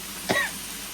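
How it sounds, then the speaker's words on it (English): A single short, sharp cough from a man in a home kitchen during cooking, close and fairly loud, followed by quiet room tone. "Cough, man, cough."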